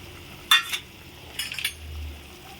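Potato and coriander curry being stirred in a pan, giving a few short scraping and clinking strokes of a spoon against metal, fairly close, with a soft low simmer in between and no talk.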